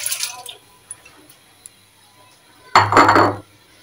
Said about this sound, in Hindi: अब हम इसमें दाल शामिल करेंगे।